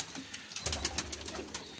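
Pigeons from a breeding setup cooing softly, a series of low rhythmic coos repeating at close range against quiet background.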